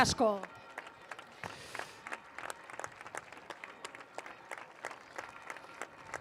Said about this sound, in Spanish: Pues un aplauso para esas tres que no han podido estar aquí